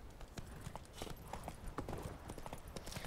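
Horse hooves galloping in The Witcher 3: Wild Hunt, a steady fast clip-clop rhythm of repeated thuds carrying on throughout over a busy game soundscape.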